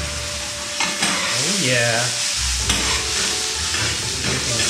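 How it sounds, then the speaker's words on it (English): Mushrooms and peas stir-fried together in a pan for Japanese fried rice, with a steady close sizzle and scraping stirs throughout; a voice speaks briefly near the start. "All of the mushrooms. And the peas together because take about the same time to cook."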